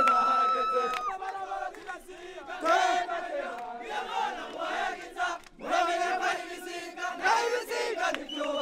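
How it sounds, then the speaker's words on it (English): A large protest crowd in Burundi singing and chanting together, many voices in loud rhythmic unison with rising and falling phrases, close and continuous. "People are singing and chanting and marching right now."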